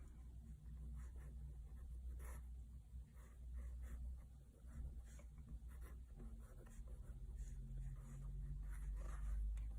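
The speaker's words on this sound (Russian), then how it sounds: "Нарисую небольшой карандашный рисунок" A pencil sketches on watercolor paper, close and quiet scratching strokes that come in short repeated bursts over a low background hum, with no talking.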